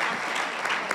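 Church congregation applauding, a brief dense burst of many hands clapping, moderately loud and steady throughout the short moment.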